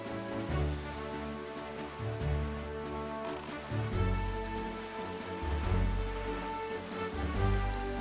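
Steady rain falls in the Zelda: Wind Waker video game during gloomy weather, a continuous hiss over a low, swelling game music bed that rises and falls throughout.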